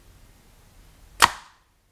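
A Hoyt RX-4 compound bow fires a heavier arrow, about 400 to 500 grains, giving one sharp, loud snap followed by a short fading thrum after a quiet lead-in.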